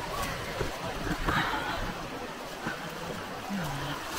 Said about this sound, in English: Just listen to the sound of river.